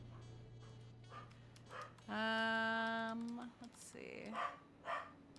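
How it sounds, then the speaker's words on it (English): Dogs at home bark at a food delivery arriving, a sustained howling bark followed by shorter yips in the background while a person speaks briefly nearby. "the dogs are not gonna stop until they do."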